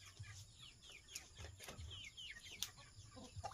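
Chickens of several kinds, including native and bantam birds, cluck and chatter in short, faint, overlapping bursts at feeding time, with a few sharp pecks or scuffs among them.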